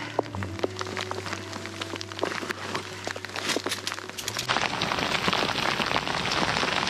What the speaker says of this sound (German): Westfälischer Landregen.